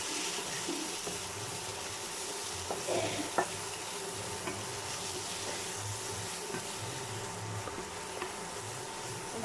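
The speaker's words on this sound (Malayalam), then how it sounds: "ഇനി ഇത് നമുക്ക് മഞ്ഞൾപ്പൊടി ഇടാം. ഞാൻ നന്നായിട്ട് ഇളക്കി കൊടുക്കാം." Food frying in a pan with turmeric powder added, stirred steadily: a continuous soft sizzle with faint scraping strokes and a couple of brief clinks near the middle, fairly quiet and close, with no voices.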